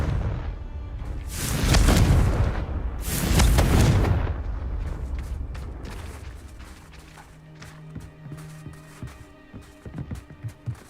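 Two heavy booming blasts from the Confringo fire spell in Hogwarts Legacy, each a loud roaring burst a couple of seconds apart, followed by quieter ambient game sounds.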